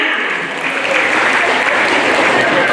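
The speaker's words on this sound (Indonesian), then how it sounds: "Tepuk tangan untuk seluruh pemeran drama kita." An audience applauds the cast of a Batak comedy Christmas drama at a church celebration, steady loud clapping sustained for a few seconds with voices mixed in.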